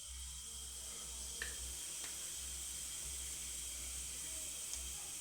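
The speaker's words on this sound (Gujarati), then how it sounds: "તવીમાં તેલ લઈ લીધું છે, તો આપણે ચમચી જેટલું જીરું નાખી દેવાનું છે" Cumin seeds sizzle in hot oil in a tava while cooking a Gujarati soya vadi curry, a steady soft hiss with faint crackles running throughout, fairly quiet and with no talk.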